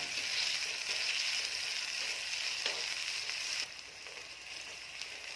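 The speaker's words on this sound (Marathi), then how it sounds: "कांदा चांगला परतून घ्यायचा आहे" Chopped onion sizzles steadily in hot oil in a pan while cooking pithla, a continuous close frying hiss that drops slightly in loudness partway through.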